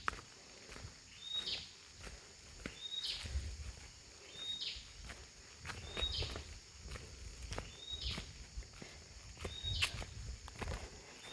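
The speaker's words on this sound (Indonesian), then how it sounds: "Tuh, suara burung." Repeated short bird calls at regular intervals, fairly faint, over soft rustling and scattered clicks, with no voices.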